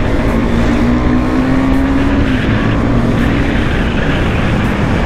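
Motorbikes racing along a road, one an RS model, with a steady loud engine drone throughout and a rising, then falling whine as a bike runs close by.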